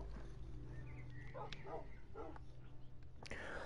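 A dog in the video game Minecraft gives a few short barks and whimpering yips over a low background hum, fairly faint and spaced out.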